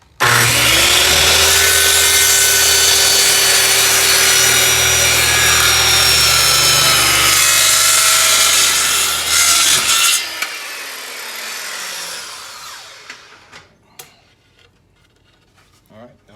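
A 28 inch wooden board is cut with a saw while clamped to a truck tailgate, giving steady, loud rasping strokes for about ten seconds before the cut ends and a few faint knocks follow.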